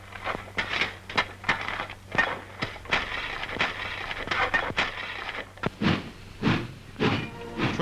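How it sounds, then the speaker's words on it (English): Coal trains run through an undersea mine, giving faint, irregular metallic clanks and rattles that repeat over a low rumbling background. "Trains bring out more than 12 million tons a year."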